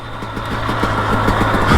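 A two-stroke dirt bike engine on a single-track hill downshifting, a short burst of close, buzzy engine note with rapid pulsing firing and rising revs at the end.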